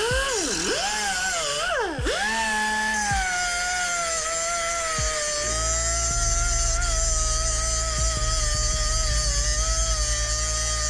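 A power tool cuts through a wheel stud on a 2025 Dodge Durango R/T, giving a high whining, grinding drone. It begins with a swooping pitch, then settles into a steady, close cutting tone with a throbbing low buzz underneath, and no speech.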